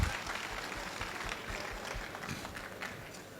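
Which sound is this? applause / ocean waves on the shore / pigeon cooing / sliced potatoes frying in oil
applause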